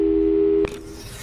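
A telephone busy signal in the video game Portal 2, a loud steady electronic tone that cuts off abruptly after a moment, leaving faint room noise behind.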